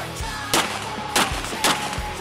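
Three sharp gunshots spaced about half a second apart ring out during night-time combat shooting practice, each a loud, close crack over a low background hum.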